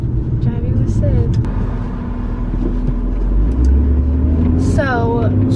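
Car driving along, a steady low engine and road rumble with a rise in engine noise partway through, heard from inside the cabin while someone talks.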